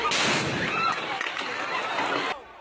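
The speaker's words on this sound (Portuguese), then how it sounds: "Bombas de efeito moral foram disparadas." Stun grenades fired by police at a student hazing gathering burst in a sharp, loud blast followed by a crackling, echoing decay that cuts off abruptly.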